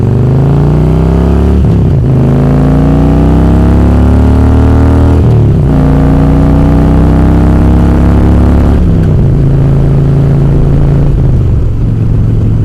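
A Harley-Davidson motorcycle engine rumbles loudly and close while riding, with a deep throbbing tone that rises through the gears, and three clear shift dips break the pull before it climbs again.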